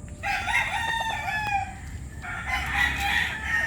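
A young rooster crows twice in close succession at a flooded backyard poultry pen, each call loud, near and strained, with no talking.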